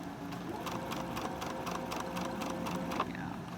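A sewing machine stitches fabric in a quick, steady run of needle strokes at close range, carrying on evenly through a Halloween sew-along project with a small sharp tick near the end.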